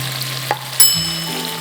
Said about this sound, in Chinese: 在油里面慢慢的炒，它那个头里面的虾油就出来了